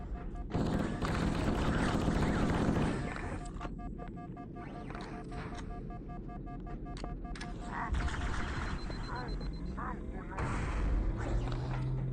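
A grenade blast rings out in the Halo video game, amid a dense, loud stretch of booming gunfire and explosions that eases off and then swells again, with players talking over the battle.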